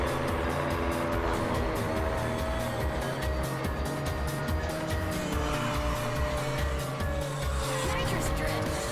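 Race car nitrous drift in the video game Ridge Racer 7, a steady loud engine drone with tire squeal and skidding noise throughout, continuous and close, with faint voice in the mix.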